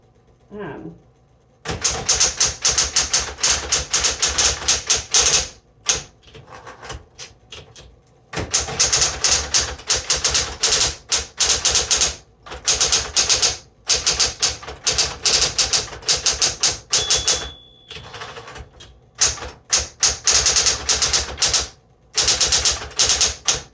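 Typing on a 1960s Smith Corona Coronet Electric 12 electric typewriter: a loud, rapid clatter of keystrikes in long bursts, broken by brief pauses and a carriage-return whir, with a low motor hum underneath.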